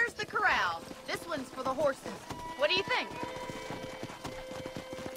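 Clip-clopping horse hooves in Red Dead Redemption, a steady near trot running under a voice speaking French, with a faint whinny partway through.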